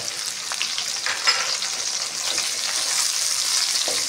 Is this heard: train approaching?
no